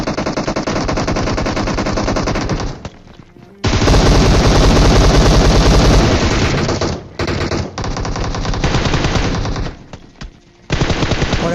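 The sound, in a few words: gunfire in a battle royale video game fight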